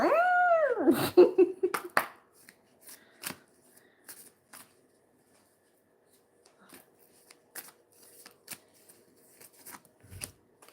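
Cat hacking up a hairball, a loud strained yowling retch at the start followed by scattered soft shuffles, gulps and small clicks in near quiet.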